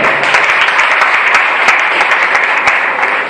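A church congregation applauding during a service, loud, dense, sustained clapping from many hands filling the room for a few seconds.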